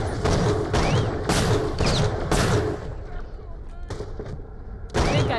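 Gunfire in the shooter Borderlands: The Pre-Sequel, loud repeated bursts in an uneven rhythm with short pauses, a quieter stretch, then one more burst, while someone talks over the shooting.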